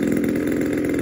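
A DLE 20cc gas engine on a Hangar 9 Spitfire 60 model airplane runs steadily during break-in, a loud close buzzing drone holding an even pitch without a break.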